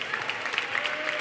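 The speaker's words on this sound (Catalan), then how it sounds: "tornem a reprendre la força als aplaudiments, que no decaiguin" Audience applause at a university graduation ceremony, dense continuous clapping from a large crowd in a hall, steady and unbroken with no voices over it.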